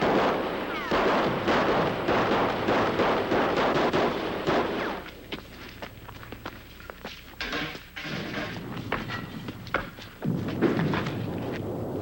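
Artillery and gunfire in a WW2 battle scene, with dense loud blasts and rapid crackling shots rolling together, easing briefly midway before a renewed heavy barrage.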